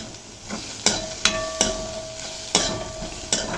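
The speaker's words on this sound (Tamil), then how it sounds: "இந்த பக்கம் பாகக்காய் நல்லா வதங்கிடுது" Bitter gourd sautés in a pan with a steady soft sizzle, punctuated by several sharp scrapes and taps of a spatula stirring, fairly quiet and close with no talk.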